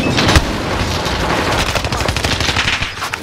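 Continuous rapid gunfire in Call of Duty: Modern Warfare 2022, loud automatic bursts and booming shots overlapping into a dense close-range barrage with no pause.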